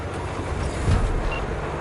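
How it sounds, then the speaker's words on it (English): A train in Cyberpunk 2077 pulls away from a station with a low, steady rumble and broad rolling noise, loud and continuous, with no voices. "the train's leaving"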